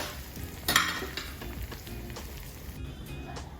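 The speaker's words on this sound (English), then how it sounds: "Make sure that the ginger doesn't get roasted too much, otherwise it gets bitter." Ginger sizzles and fries in a hot pan for an Indian aloo bhaji, a steady soft crackle with a brief louder stir and scrape of a utensil near the start.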